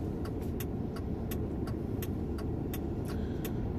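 Road traffic sounds from inside a car as a steady low rumble of engine and road noise, with sharp ticking clicks repeating through it like a turn signal. No one speaks.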